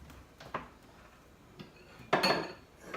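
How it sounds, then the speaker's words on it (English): A small bowl is taken out in a home kitchen, with a few scattered light clinks and a louder clatter of dishes and cutlery near the end, close and otherwise quiet. "Take a small bowl."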